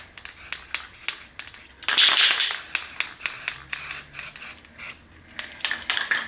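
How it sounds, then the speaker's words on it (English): Green spray paint hisses from an aerosol can onto water for hydrodipping a fidget spinner, heard as short close bursts of spray mixed with light rattling and clicking mechanical sounds. "Spray some green on there."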